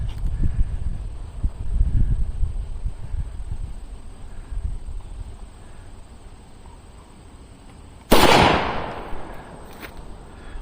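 A single sharp gunshot at an outdoor shooting range cracks out loudly near the end, after a stretch of low rumbling wind and handling noise.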